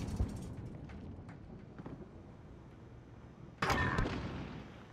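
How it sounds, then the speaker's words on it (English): Bombs exploding at the spawn area in a Call of Duty match: scattered distant thuds and pops, then a sudden louder blast near the end with a rumbling decay, no talk. "Bombs at spawn."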